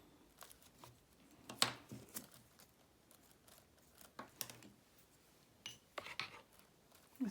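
A tool cutting off a strip of clay while weaving with clay: a series of short, quiet scraping and snipping sounds at irregular intervals, close by, with near silence between the strokes.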